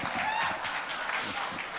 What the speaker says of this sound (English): Clap louder, y'all asked us to.